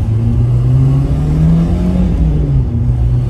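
A 1979 Mercury Capri RS Turbo, a Fox-body survivor with 60k miles, revs up close. Its engine rumbles loud and steady, the pitch swelling and sinking, with no talk over it.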